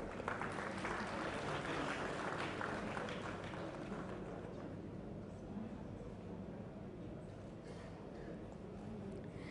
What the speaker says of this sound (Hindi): कृपया तालियों से इस शुभारंभ का अभिनंदन करें।